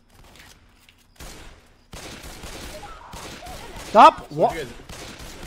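Gunfire in a video game, a dense crackle of shots running under shouted voices, with a couple of louder sharp bursts near the end.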